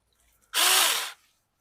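A Saker Mini electric chainsaw cuts through small sticks in a single loud, close, high-pitched whirring burst of about half a second, starting abruptly and fading quickly into quiet.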